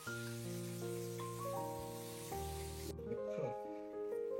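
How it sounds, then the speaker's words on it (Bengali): Chicken frying in a pan gives a steady, airy sizzle beneath sustained tonal music, with the hiss cutting off abruptly shortly before the end. "চিকেন ফ্রাই বানাচ্ছি আমরা"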